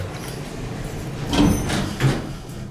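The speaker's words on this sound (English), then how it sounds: "look how rough this door is. Listen to this door." A sliding Dover Traflomatic IV traction elevator door in a campus parking garage grinds open roughly, with two heavy rumbling thumps as it moves, over a low background hum.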